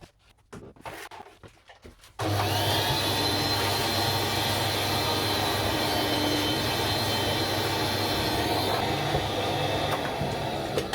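A vacuum cleaner clears debris from the spark plug pockets of a Kia Rio 1.25-liter third-generation engine: after a couple of seconds of quiet handling noise, it switches on with a sudden, loud, steady roar that continues close up.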